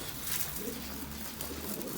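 Soft, low pigeon coos on a balcony over a steady background hum, continuous and fairly close, with no talking.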